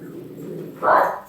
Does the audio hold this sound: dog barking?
yes